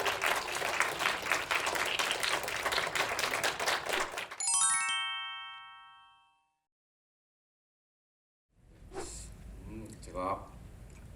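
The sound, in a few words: audience applause welcoming a speaker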